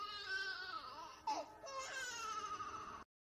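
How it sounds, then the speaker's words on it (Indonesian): A baby cries in thorny bushes, loud and close, in drawn-out wailing sobs with a brief catch of breath midway before the crying resumes and then cuts off abruptly. "mereka mendengar suara bayi menangis di semak duri di dekatnya"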